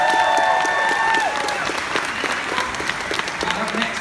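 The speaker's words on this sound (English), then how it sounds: "keep round of applause going for TomSka" Audience at a convention panel claps after a presentation, a dense wash of applause that starts loud and thins out over a few seconds. A brief tone is audible at the start.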